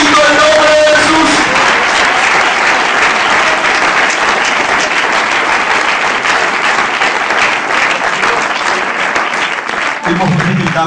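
A church congregation applauds in sustained, loud, dense clapping that fills the whole stretch, fading slightly near the end as a low murmur rises.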